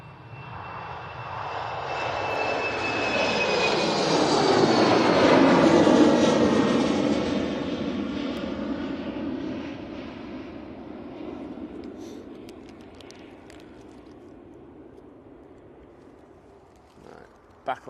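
A jet airliner lands at Manchester Airport, its engine roar swelling to a loud peak as it passes and then fading into a long, falling rumble. Faint voices occasionally sit beneath it.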